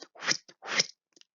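A voice imitates a rotating lawn sprinkler with two bursts of hissing, spraying noise followed by short sputtering ticks, close and fairly quiet.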